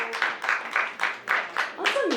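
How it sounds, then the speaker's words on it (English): A comedy show audience claps in short, evenly spaced bursts about a quarter second apart, moderately loud and close, with a voice breaking in at the very end. "Clap it up if you are in love here tonight."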